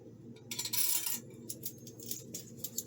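Metal cutlery set down on a table while laying out a dinner place setting, salad, dinner and dessert forks; a few light clinks and taps, close and moderately loud, with no voices.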